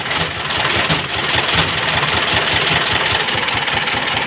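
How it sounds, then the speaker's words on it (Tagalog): A diesel engine with rough, worn rocker arms idles close by with a loud, steady rumble and a rapid, rhythmic knocking clatter running throughout. "maririnig dito sa taas sa sobrang gaspang nung mga rocker arm"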